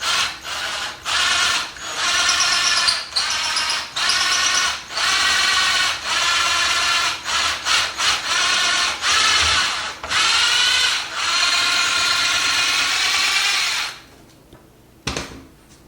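A power drill drives screws into cabinet hardware in a series of loud, close whirring bursts, each pulsing and ratcheting briefly before cutting off. A few short pauses break the run, and the last bursts fade toward quieter handling noise at the end.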